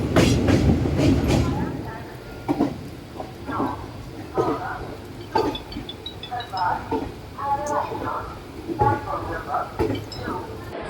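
A passenger train rolls on the rails as it pulls into Dhanbad Junction in Jharkhand, its rhythmic clatter rising and falling nearby while people talk over it.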